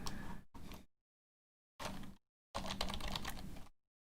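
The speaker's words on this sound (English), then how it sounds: "I was typing, but I never hit enter" Bursts of computer keyboard typing in short clusters separated by silent gaps, close and fairly quiet, with no voice over it.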